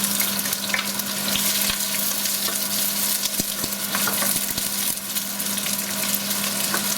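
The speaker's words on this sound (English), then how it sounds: "We're gonna saute the shallots." Shallots sauté in olive oil in a pan, a loud continuous sizzle close by with scattered clicks and scrapes of a utensil stirring, no talking.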